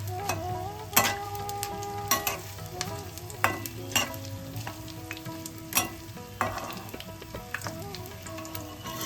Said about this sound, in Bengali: এই ভাজাটা যেন ভালো করে হয়, যেন কাঁচা না থাকে